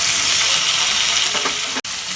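Onions and chopped tomatoes sauté in a pan with a loud, close, steady sizzle that briefly cuts out near the end, and no voices are heard.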